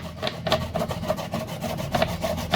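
An ingredient for a herbal remedy is worked against a grater in repeated rasping strokes, a scratchy rubbing rhythm heard up close and fairly loud, with no voices.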